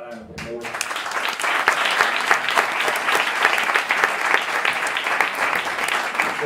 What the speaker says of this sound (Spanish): Un aplauso para Ana, por favor